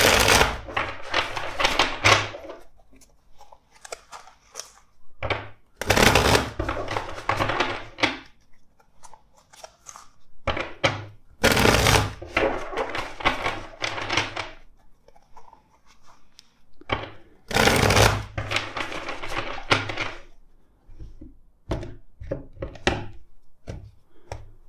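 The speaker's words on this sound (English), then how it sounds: "Let's shuffle this other deck four more times." A tarot card deck being shuffled in four separate bursts of crisp riffling and tapping, each a few seconds long, with quiet pauses between them and no talking.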